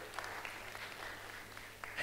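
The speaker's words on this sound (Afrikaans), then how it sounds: "Al die kinders gee my groot hande klap" A group of children claps together during a church children's service, a soft, distant patter of hands that runs steadily through the short moment.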